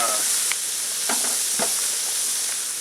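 Garlic and a mix of red sweet peppers and cayenne fry on a plow disk discada, giving an even, bright sizzling hiss with a few soft stirring scrapes.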